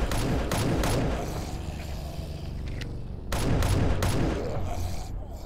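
Rapid video game gunfire as zombies are shot in a dungeon crawler, loud close bursts of shots in two volleys separated by a brief lull.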